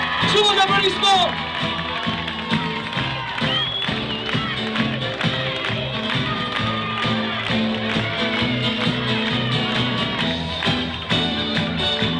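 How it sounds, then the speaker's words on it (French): A beauty pageant audience cheers and applauds at the Miss Surgères 2000 evening, with music playing loudly throughout and crowd noise and clapping mixed in beneath it. "Sous vos applaudissements!"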